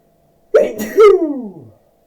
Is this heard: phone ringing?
no